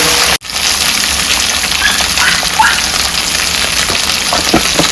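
Ivy gourd pieces fry in hot oil with turmeric over a medium flame, giving a loud, steady, close sizzle with a hiss that barely changes.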